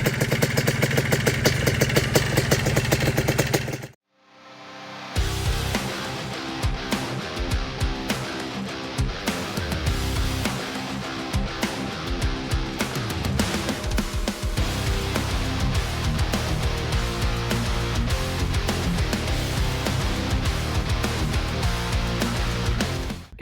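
An old Toyota FJ Land Cruiser engine running after its spark plugs were cleaned, a loud steady mechanical drone with clattering texture, briefly cut off near four seconds, then resuming and running evenly.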